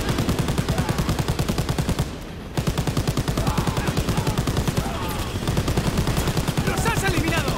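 Rapid, sustained automatic gunfire in the World War II shooter Call of Duty: WWII, dense and loud bursts firing almost nonstop with one brief pause, fighting from a moving train, with voices faintly mixed underneath.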